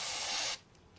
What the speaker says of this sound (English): we're just going to try a bit of WD-40 first, just sort of around here and on here